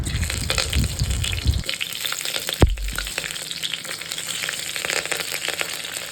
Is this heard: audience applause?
no